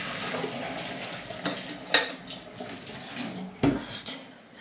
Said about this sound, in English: I just checked the potatoes and they're all done, so I'm just going to drain them off